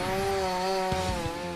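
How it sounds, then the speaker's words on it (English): A giant chainsaw with a 35cm cutting chain on a heavy machine cutting into a wall gives off a sustained high, buzzing mechanical whine with a few low thumps near the end. "The chainsaw uses a 35cm cutting chain that rides on gear-like teeth."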